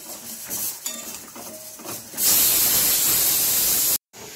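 Vegetables are set to fry in a pan for a red amaranth stalk dish. Light clinks and clatter of kitchenware come first, then a loud, sustained hiss of frying breaks out and continues steadily.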